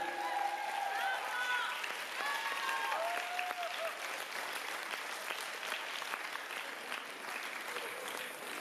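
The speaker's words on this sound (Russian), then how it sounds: "Еще раз аплодисменты" Applause from a gala concert audience after a belly dance number by Mohamed Salah with the Bagira school of oriental dance, steady clapping with a few voices and faint music at the start, then the clapping continues on its own.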